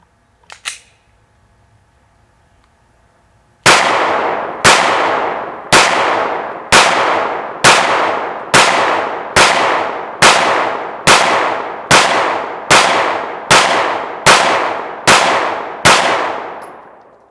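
A Glock 19 Gen4 pistol fires Winchester white box 115 grain 9mm rounds: fourteen loud, sharp shots in a steady, evenly spaced cadence, about one per second, after a few faint handling clicks.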